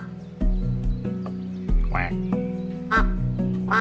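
Cartoonish duck quacks from the video game SCHiM pop up in short bursts over a steady, droning game music bed, fairly loud and close.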